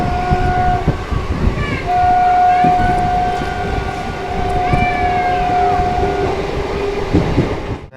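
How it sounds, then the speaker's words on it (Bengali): A passenger train on the new line between Krishnanagar and Amghata rumbles past close by, wheels clattering steadily, with a long sustained horn blast sounding through the middle of the run. "এই ট্রেনটা চালু হয়ে গেছে"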